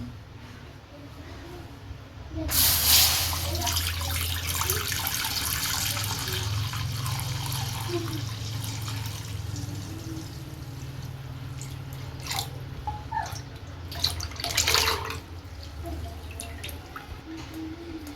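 Coconut milk being poured into an iron pan while making a traditional palm-jaggery halwa, a continuous wet splashing trickle that swells early and runs for many seconds, with faint drips near the end.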